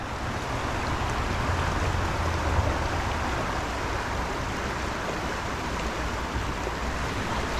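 Fast-moving stream water on a New Jersey trout stream, a steady, broad rushing wash that holds close and even throughout with no voices.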